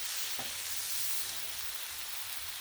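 Sirloin steak sears on a flat griddle, giving a continuous, even sizzling hiss close by that holds steady throughout, with no voices.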